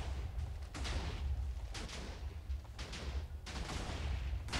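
Heavy booming gunfire in bursts over a constant low rumble, loud and dense, like rapid shots and explosions in a Minecraft WarGear battle.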